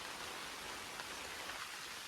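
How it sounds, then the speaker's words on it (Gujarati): Monsoon-season rain pours down on a farm in the Gir region of Gujarat, an unbroken, fairly loud broadband hiss that stays even throughout, with no voices. "ગાંધીગીરમાં વરસાદનું આગમન થઈ ગયું છે"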